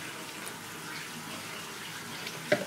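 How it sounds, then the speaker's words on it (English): Turkey juice pours steadily into gravy in a kitchen, a continuous soft liquid trickle with a small clink near the end. "So now we just pour in the juice"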